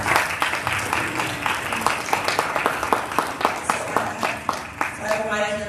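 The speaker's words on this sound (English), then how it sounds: "Let's give them a round of applause." An audience claps at the close of a recovery-focused reconnaissance data presentation, a run of distinct, fairly sparse claps at moderate volume, tapering off with a few scattered claps.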